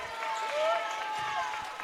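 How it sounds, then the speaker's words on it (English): A crowd at a girls' high school basketball game cheers and claps in a sustained, moderately loud roar, with a commentator talking over it. "The crowd's getting into it now"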